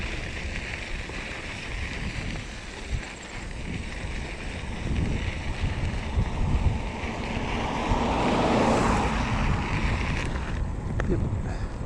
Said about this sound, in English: Bit of a headwind today.